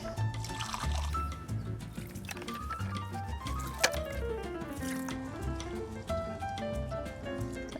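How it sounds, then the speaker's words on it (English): Water pours and trickles onto transplanted hydroponic plants in soil, a steady close splashing and gurgling fill with small drips, lasting several seconds without talk. "Give it a good drink of water."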